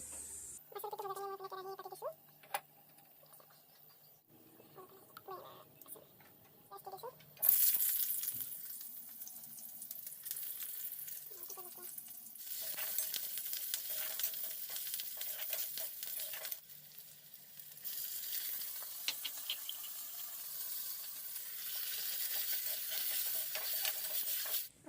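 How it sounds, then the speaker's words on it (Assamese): Mashed fish paste frying in a pan in a home kitchen: after a quiet start with a few small clinks, a loud, steady sizzle bursts in and crackles on continuously with occasional stirring. "এতিয়া মই মাছৰ পিঠুখিনি ভাজিম।"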